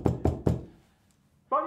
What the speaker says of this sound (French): On frappait à la porte.